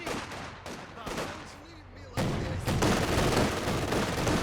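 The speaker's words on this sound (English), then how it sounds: "There's the LMGs on those grenadiers from inside the building." Light machine guns firing from inside a building on grenadiers in Company of Heroes 2, heard as bursts of gunfire over a busy battlefield, with a louder stretch of dense firing and explosions toward the end.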